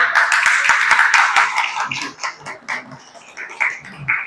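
An audience claps at a launch event as A.R. Rahman is welcomed on stage, with dense applause at first that thins into scattered claps and other noises.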